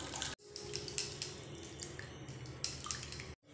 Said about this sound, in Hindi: तो चलिए अब हम इसे एक छन्नी में डालकर छान लेते हैं।